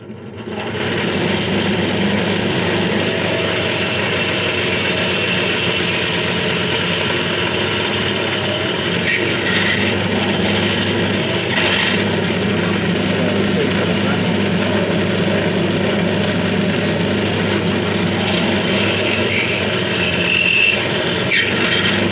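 A 7.7mm drill bores holes into small carved wooden bird heads, producing a steady, loud motor whine that runs unbroken for over twenty seconds.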